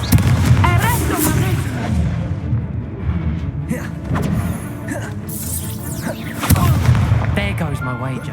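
A Confringo blasting spell explodes in the Hogwarts Legacy video game, booming impacts landing among chaotic combat effects while a voice calls out over the clamor.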